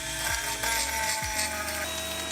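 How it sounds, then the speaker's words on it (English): Someone grinds and polishes a restored gun with a power tool, giving a steady whirring, abrasive hum with a couple of brief dips as the tool shifts against the metal, close and continuous with no talking. "A little grinding and polishing."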